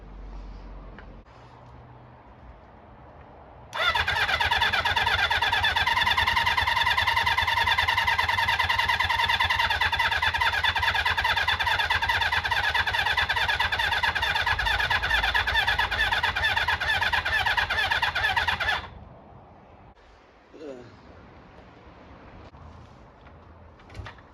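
A Honda CB400 Four classic motorcycle under restoration turns over with a loud, steady mechanical churning that holds for about fifteen seconds, then cuts off abruptly, leaving quiet shop ambience.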